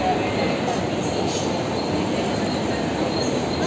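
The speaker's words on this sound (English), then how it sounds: "I can catch the train." Commuter train at Churchgate station in Mumbai rumbling steadily with a high metallic wheel squeal running over it, loud and close throughout.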